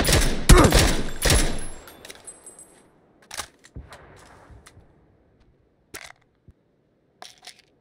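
A player's gun fires in PLAYERUNKNOWN'S BATTLEGROUNDS: a loud, close burst of rapid shots, then a few scattered single shots that grow sparser and fainter, with no talking.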